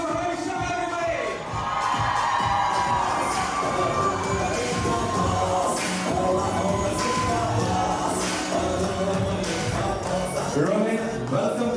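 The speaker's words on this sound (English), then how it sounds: "Make some noise for Rohit Sharma, everybody" A large crowd cheers and shouts for the cricketer Rohit Sharma at a cricket store event in California, a loud, continuous mix of yelling and whoops with higher children's voices that swells and holds throughout.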